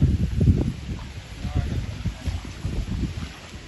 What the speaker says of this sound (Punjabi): ਹਵਾ ਚੱਲਦੀ ਹੈ ਨਾ